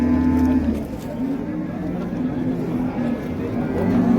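A Swedish-breed cow moos in a long, low, sustained call that fills the whole stretch, close by and loud, with background noise of the Chiroqchi livestock market.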